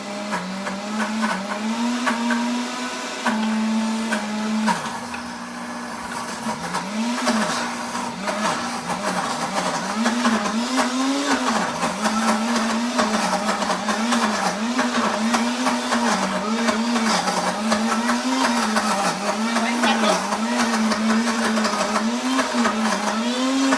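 A blender with a vortex blade whirs steadily while blending baked orzo ingredients. The motor pitch wavers and dips as the load shifts, loud and continuous throughout.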